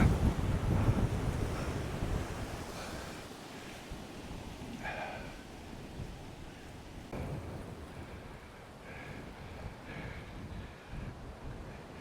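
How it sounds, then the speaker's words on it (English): Storm wind buffeting the microphone and surf breaking along the coast at Babbacombe, a steady roaring wash with heavy low rumble at first and occasional faint higher tones, no talking. "What a storm."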